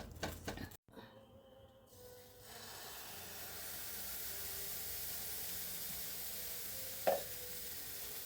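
Food frying in a pan on a home stove, a steady low sizzle building after a few seconds of shuffling and continuing alone, with one short clatter near the end.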